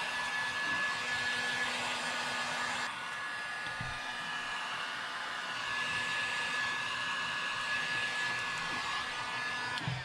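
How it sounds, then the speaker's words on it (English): A heat gun blows a continuous, steady hot-air roar at close range as heat shrink tubing is shrunk over bundled LiFePO4 battery cables, with no voices. "Grab the heat gun and we'll shrink this down."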